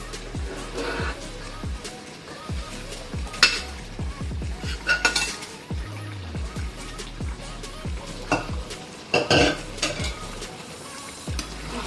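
Utensils scrape and clank in a wok of mutton curry with repeated stirring strokes over a steady sizzle, fairly close and continuous.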